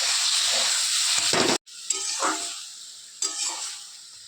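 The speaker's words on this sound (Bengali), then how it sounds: "মশলাটা কষে নিই।" Spice paste with tomato, cumin powder and chili powder sizzling and being stirred in a hot pan, a loud steady hiss with scraping bursts and a brief break partway through, no voices.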